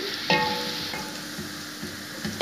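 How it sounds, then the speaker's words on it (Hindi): Garlic fries in hot oil, giving a steady, close sizzle with occasional stirring scrapes, no voices. "लहसुन को हम करेंगे हल्का सा ब्राउन ऑयल के अंदर।"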